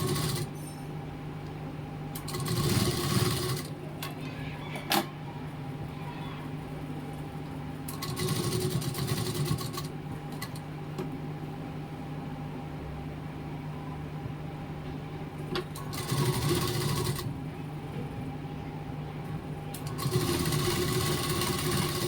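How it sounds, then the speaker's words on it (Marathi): A sewing machine runs pressure stitching on puff-sleeve blouse fabric, its motor whirring steadily in several bursts of a few seconds each, separated by a quieter hum, with no talking. "आणि याच्यावरती दाब शिलाई मारून घ्या।"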